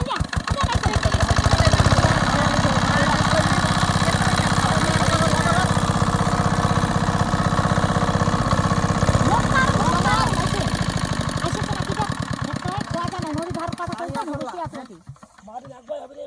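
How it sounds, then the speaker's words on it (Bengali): A shallow tube-well water pump engine runs in a field, chugging steadily and loudly up close for most of the stretch before dying away near the end. "আর অবশেষে মেশিনটি স্টার্ট হয়ে গেল বন্ধুরা, দেখতেই পাচ্ছ আমরা স্টার্ট করে দিলাম।"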